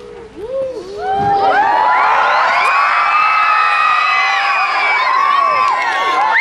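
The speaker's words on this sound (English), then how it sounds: "I need your help, kids. Scream out if you agree with me on this one." A crowd of children screams and cheers loudly together, a dense and sustained wall of shrill shouts and whoops that swells after a quieter start.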